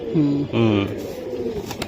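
A Bagha pigeon gives a couple of low, close coos early on, followed by quieter room noise while a person speaks nearby.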